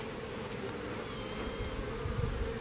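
A dense, droning buzz of many honeybees in a hive, steady and close, humming continuously with slight swells in intensity.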